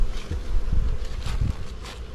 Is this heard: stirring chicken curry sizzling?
no